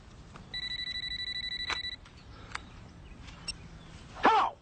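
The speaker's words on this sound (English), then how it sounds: "Phone." A telephone rings once in a quick electronic trill, then goes quiet amid faint room noise, followed by a short burst of noise near the end.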